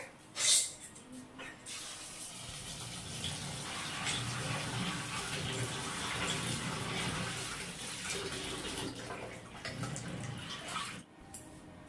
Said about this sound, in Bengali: এখন জলে দুই তিনবার ধুয়ে নেব